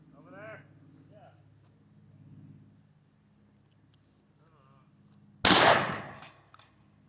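A shotgun fired into dirt on an outdoor shooting range: one loud, sharp blast near the end with a short echoing tail and a smaller follow-up burst, after quiet stretches with talk.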